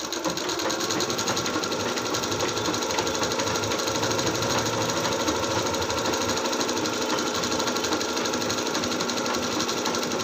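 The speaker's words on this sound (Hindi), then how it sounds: "ऊपर सिलाई चला देंगे।" A sewing machine stitches a lined blouse sleeve in one continuous, even run of fast mechanical needle rattle that lasts the full ten seconds, close and unbroken, with no talking.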